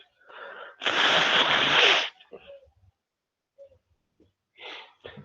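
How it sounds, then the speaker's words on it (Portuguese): A person with a cold blows their nose in one loud, close, wet honk lasting about a second, followed by sniffs and small rustling noises. "Começou comigo assoando o nariz."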